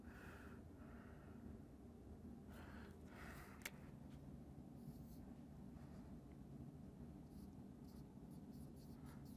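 Faint scratchy strokes of writing on a board during a civil procedure law lecture come in scattered short bursts over a low room hiss, with no talking in between.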